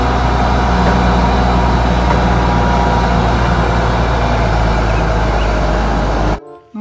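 A toy mining dump truck gives off a steady, loud, rumbling engine drone with an idling character. It stays constant for several seconds before cutting off abruptly near the end.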